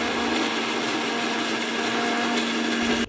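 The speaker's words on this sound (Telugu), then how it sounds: "జార్ను మిక్సీకి ఫిట్ చేసుకొని మెత్తగా మిక్సీ పట్టుకోవాలి" A mixer grinder runs with its jar fitted, blending ingredients for an oil-free, no-flame dish. A loud, steady motor whir with a constant hum continues without a break, then cuts off abruptly just before the end. No one talks.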